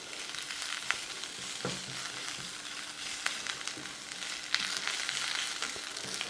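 Tofu pan-frying in a tagine gives a steady close sizzle with scattered crackles and pops throughout, and no voices.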